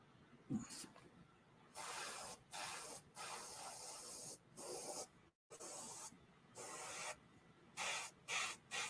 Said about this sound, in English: I'm having trouble with my airbrush.